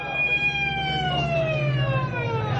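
A wailing ambulance siren, its pitch sweeping slowly downward, steady and fairly loud over a low background hum.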